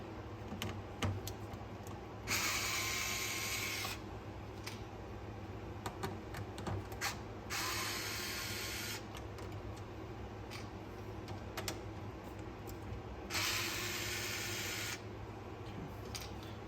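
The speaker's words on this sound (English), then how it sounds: "we just unscrew the 4 screws that are securing this one down" Screws being unscrewed one after another while taking apart a Pioneer LaserActive console, heard as small scattered clicks and taps close up against a steady hum, with several louder bursts of rasping noise along the way.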